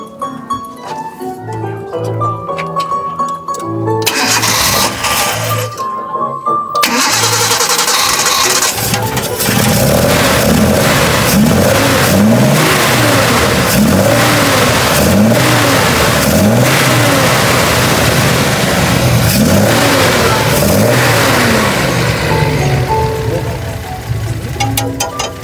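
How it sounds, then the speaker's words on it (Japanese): A 1979 Nissan Laurel 230-series engine cranks and catches, then revs repeatedly, rising and falling in loud surges over a steady rumbling idle. "ちょっとエンジン音聞かせていただいたらダメでしょうか"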